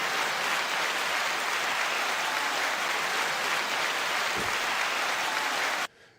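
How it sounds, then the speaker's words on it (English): Sustained crowd applause on a talk show, loud and steady for about six seconds before cutting off abruptly near the end. "9-second applause to you all one more time"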